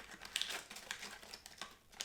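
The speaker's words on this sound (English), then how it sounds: "These open quite easy, they're a bit like foil." A foil-like snack packet is torn open and crinkled in a short burst of faint, close rustling and crackling.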